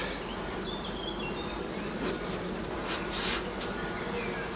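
Honeybees shut inside a small single-frame split hive keep up a steady, even buzzing hum, with a few louder wingbeat swells passing close.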